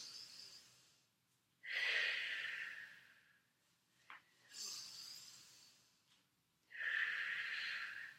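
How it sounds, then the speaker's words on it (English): Slow, deep breaths during a gentle exercise cool-down: three long, breathy inhale-exhale cycles with pauses between, close and fairly loud, no talking. "let's breathe"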